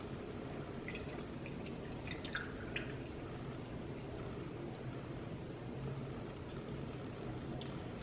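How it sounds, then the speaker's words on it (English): Olipop soda is poured into a glass, a faint, quiet trickle with soft scattered drips and fizz over a low hum. "a nice healthy pour of Olipop"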